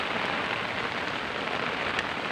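Steady rain pours down in a dense, continuous hiss on a surface outdoors in Cavite at night, loud and close, with no voices.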